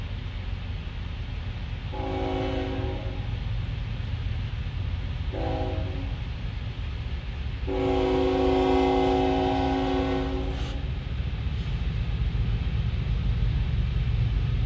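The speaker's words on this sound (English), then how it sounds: "There's an incoming train. And I think it's a container train." A CSX container train approaching the Moore Avenue crossing, its horn sounding in several blasts, two short and one long, over a steady low rumble of the train rolling past.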